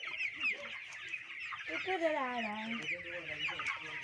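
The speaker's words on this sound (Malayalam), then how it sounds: "ചെറിയ കോഴികളാണ്" Young chickens on a small poultry farm cluck and chatter close by, with one longer wavering call in the middle, over a steady background hiss.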